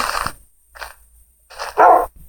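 Dog barks from the Minecraft video game: four short, fairly loud yelps in an uneven rhythm, with the last one strongest, and no talking over them.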